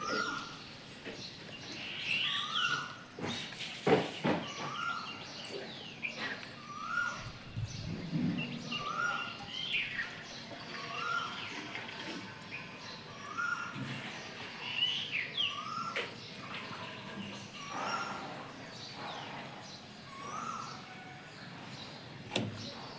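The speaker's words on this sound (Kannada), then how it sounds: "ಕೋಗಿಲೆ ಎಷ್ಟು ಚಂದ" Repeated rising bird calls, like a koel's song, sound at a moderate distance against a busy background of thumps and household noise.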